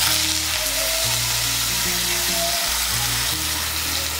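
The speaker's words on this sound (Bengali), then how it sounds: "ফোড়নটা দিয়ে একটু নাড়াচাড়া করে নিয়ে এর মধ্যে দিয়ে দেবো কেটে রাখা ছোলা কচু।" Chopped taro dropped into hot oil tempered with black mustard seeds, a loud continuous sizzle and crackle that holds steady throughout, close by, with no voices.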